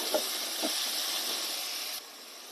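Onions with curry leaves and green chillies sauté in a pan, giving a steady bright hiss and sizzle that drops slightly near the end, close and alone.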